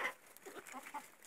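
Farmyard chickens, including an old rooster and hens, cluck softly and intermittently at a distance in a quiet, brief stretch with no voices.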